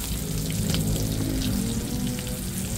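Chicken necks frying in hot cooking oil, a steady dense crackle and sizzle close by, continuous for the whole stretch with low background hum underneath.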